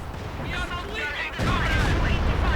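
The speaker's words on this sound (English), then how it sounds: "shattering them all with a massive artillery shell" A massive artillery shell strikes in a real-time strategy war game, a heavy booming blast with rumbling low-end impact that swells midway and sustains, set among scattered battlefield noise.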